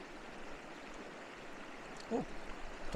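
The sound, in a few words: river stream flowing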